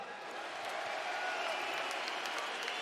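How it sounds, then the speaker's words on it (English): Audience applause for Islam Makhachev after his UFC 284 fight with Volkanovski, a faint, steady wash of distant clapping lasting a few seconds. "Let's give a round of applause for Islam."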